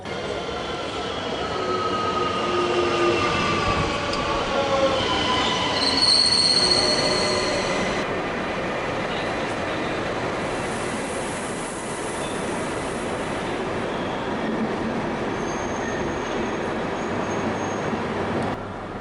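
A night train to Bucharest rumbles steadily along the rails with high metallic wheel squeals rising and fading over a constant rolling roar, no voices.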